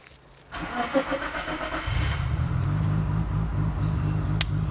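An 1100 hp all-wheel-drive Nissan Skyline GT-R engine cranks for over a second, then catches and settles into a steady, loud, low idle rumble close by.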